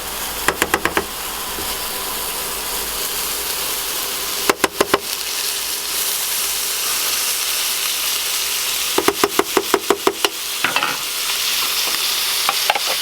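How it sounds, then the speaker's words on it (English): Steak searing in a pan and basted with butter, a steady loud sizzle and frying hiss throughout, broken by bursts of rapid metallic knocks and clatter from a spoon scraping and tapping the pan. "I'm just gonna add some butter, and we're gonna start basting the steak"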